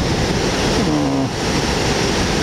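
Typhoon surf rolling in at Sendai Shinko beach on Japan's coast, a steady broadband roar of breaking ocean waves with wind rushing over the microphone, continuous and loud with no voices.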